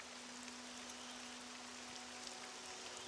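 Steady rain from an upgraded rain mod in Morrowind (OpenMW) played on a Steam Deck, a constant broadband hiss of falling drops with a faint tonal hum underneath, no talk.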